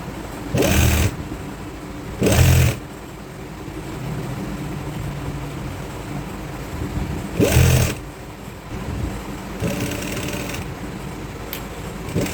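A sewing machine sews trousers with a steady motor whir throughout, loud and close, with several short louder bursts standing out over the continuous hum.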